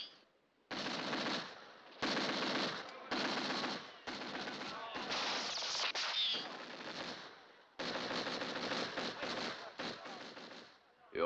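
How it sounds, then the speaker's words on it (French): Machine guns fire in sustained bursts during a French action film, with loud rapid rattling volleys separated by brief pauses and a shouted voice buried in the noise. "Avec la mitrailleuse, on ne peut rien faire."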